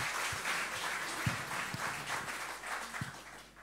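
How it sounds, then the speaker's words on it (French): A church congregation at a celebration service claps together in a thin, quiet patter of many hands, with a few sharper individual claps standing out over a soft, steady background. "je pense qu'on peut applaudir"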